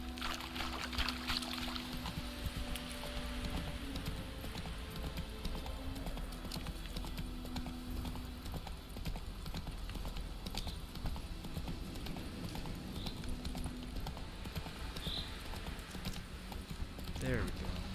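Roach, a horse in the video game The Witcher 3: Wild Hunt, galloping with a steady clip-clop of hooves under constant in-game ambience and water-like noise, while a person talks intermittently over it.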